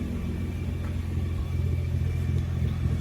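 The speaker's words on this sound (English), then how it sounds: "I'm gonna rev it up a little bit." Nissan GT-R with a new midpipe, its engine rumbling steadily and swelling slightly into a rev about halfway through, loud and close with no talking.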